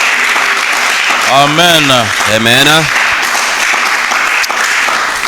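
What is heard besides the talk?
church congregation applauding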